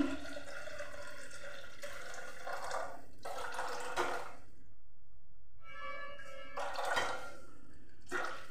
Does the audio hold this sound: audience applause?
no